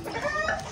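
Desi chickens clucking and murmuring close by, a steady busy flock chatter with no voices over it.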